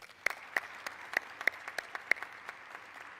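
At a Ford Field vaccination event in Michigan, a small audience claps for the Michigan National Guard, a thin scattering of separate hand claps at an uneven pace, moderately distant.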